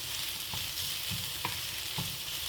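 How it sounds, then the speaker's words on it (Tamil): Coconut, small shallots and chilies sautéing in oil for a banana flower stir-fry make a steady close hiss of frying, with a few soft scrapes as the mixture is stirred, and no voices. "இந்த எண்ணெயில் தேங்காய் சின்ன வெங்காயம் சித்த மிளகாய் எல்லாம் வதங்குது"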